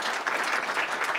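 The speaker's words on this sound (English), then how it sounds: "You're still clapping." Audience applause at a Quebec Liberal Party leadership debate, a dense steady wash of many hands clapping at once, sustained and even without pauses or voices.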